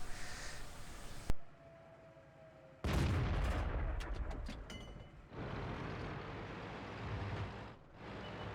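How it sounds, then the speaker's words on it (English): A tank cannon in World of Tanks fires at a building in a winter town map, with a sharp crack followed by a long rumbling roar, then dull impacts and engine noise, and no talk. "I'll shoot the building."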